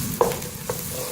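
Ginger garlic paste frying with onions in a pan, a soft steady sizzle with two brief stirring scrapes of a spoon, close and fairly quiet, no voices.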